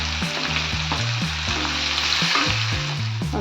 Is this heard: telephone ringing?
no